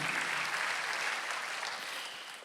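A church congregation applauds during a Sunday worship service, a steady wash of clapping that holds for the whole stretch and fades slightly toward the end, moderately distant with no voices over it.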